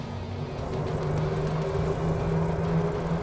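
An Evolution D5 Maverick golf cart driving, a quiet steady electric whir with faint road and tire noise, fairly close and even, rising slightly in level as it moves along, with no talk.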